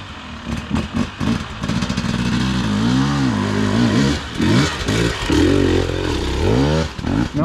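A 250 dirt bike rips along a trail at The Ridge in Springville, Alabama, close and loud, its engine repeatedly revving up and dropping off as the rider works the throttle, with clattering from the rough ground.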